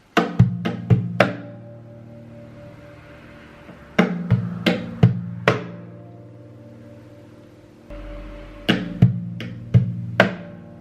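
Three bursts of sharp percussive taps and thumps with a low resonant ring, a quick rhythmic pattern knocked on an acoustic guitar body mimicking bass, snare and hi-hat, close and fairly loud.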